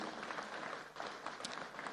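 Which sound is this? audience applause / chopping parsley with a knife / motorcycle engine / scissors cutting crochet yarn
audience applause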